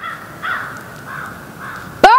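Crows or similar birds caw outdoors in a few short, clear calls, followed by a louder sharp call at the end.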